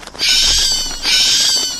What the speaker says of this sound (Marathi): त्या विचित्र रात्रीच्या पक्ष्यांचे ओरडणे